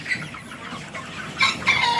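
Sonali super hybrid chickens clucking close by, a steady low murmur of hens with a couple of sharper, louder clucks toward the end.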